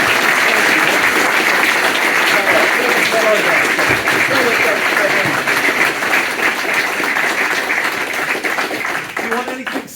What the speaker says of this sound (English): Round of applause for David Jones, please.